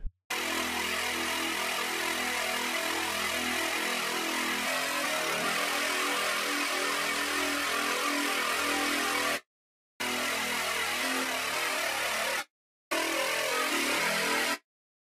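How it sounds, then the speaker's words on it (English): Gritty FM Reese bass synth patch played in Reason 7.1, first through a limiter and then a soft clipper: a dense, buzzing, sustained low tone that holds steady for about nine seconds, then returns in two shorter bursts separated by brief silences. "a FM bass with a lot of grit"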